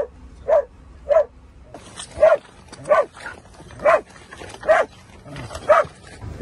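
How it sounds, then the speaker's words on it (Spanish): A dog barks loudly and close by on a search-and-rescue deployment in Turkey, sharp single barks repeating about every second across the stretch, with faint background noise between them. "El nombre de mi perrito es Balam."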